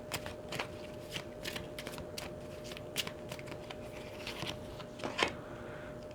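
Tarot and oracle cards being shuffled, a faint, quiet run of soft riffling flicks and taps at close range.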